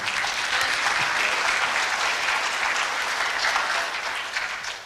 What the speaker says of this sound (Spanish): para quien pido un fuerte aplauso y la recibimos